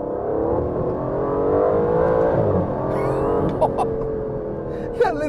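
A 2022 Aston Martin V12 Vantage, a 700bhp V12 supercar, revs hard in second gear, its loud engine note climbing and holding close by, followed by sharp crackles and pops as it eases off.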